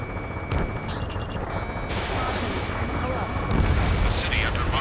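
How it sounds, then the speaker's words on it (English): Dense, continuous battle noise in Ace Combat 7 with booms, rattling gunfire and a roaring jet rush through city streets build in intensity, with a voice speaking over it. "Gunfire and the roar of jets echoing through the streets."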